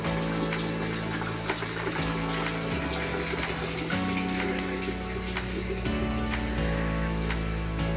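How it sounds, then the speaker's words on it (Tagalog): Leftover water drains from a fire hose line that has lost its pressure, a steady continuous gushing and splashing that runs at an even loudness through the whole stretch with no talk over it. "Tira-tira na lang sa taas yung tubig na yan."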